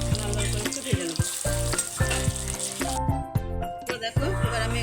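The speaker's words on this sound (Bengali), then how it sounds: "আর একটু উল্টে দিয়ে লাল লাল করে একটু ভেজে নেব।" Soybean kofta balls fry in hot oil with a steady, close sizzle, broken by several sharp clinks and knocks as they are turned in the pan.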